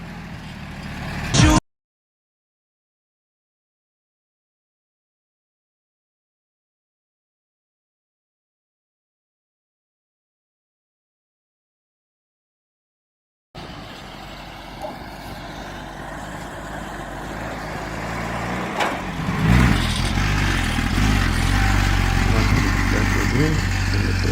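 An old GAZ-51 truck engine turns over and keeps running, a low rough rumble that swells louder partway through and is heard close up after a stretch of silence, with voices talking near it.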